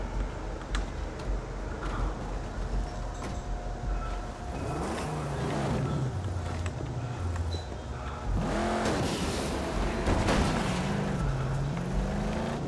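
A car drives through the open wasteland of the Mad Max video game, its engine changing pitch as it accelerates and shifts. The drone stays steady and fairly loud beneath faint ticking game sounds, and there is no speech.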